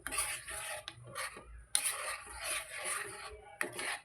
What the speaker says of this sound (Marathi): चमच्याने आता हालवून घेते